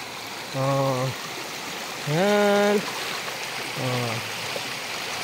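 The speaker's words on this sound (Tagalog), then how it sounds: "Sapa ang amon nga agyan nga may bato-bato nga may tubig." A rocky stream on a footpath runs with a steady, broad rushing hiss. A voice speaks briefly a few times over the flowing water.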